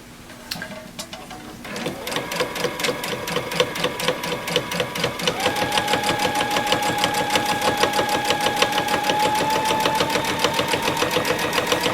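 Sewing machine quilting a Christmas tree snack pad, starting after a brief pause and then stitching in a fast, rapid needle rhythm that builds to a steady, close, moderately loud run.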